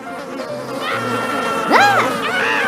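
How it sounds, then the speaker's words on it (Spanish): A swarm of flies buzzes in a steady drone, with a few louder whining passes sweeping close by over the continuous hum. "Miles de moscas atacaron a los egipcios."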